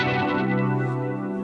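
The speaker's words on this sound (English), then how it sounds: "we have a new algorithm here called Polyphony, which is our new polyphonic 2-voice pitch shifter" Sustained guitar chord through an Eventide H90 pedal's Polyphony algorithm, a polyphonic two-voice pitch shifter, ringing loud and steady with layered shimmering harmonies and no talking.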